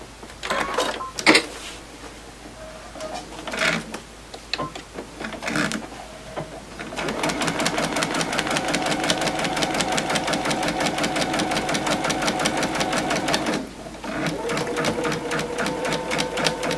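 Domestic sewing machine stitching pieced quilt fabric for triangle geese blocks, a steady rapid mechanical whir running close and continuous after a few handling clicks, pausing briefly before resuming.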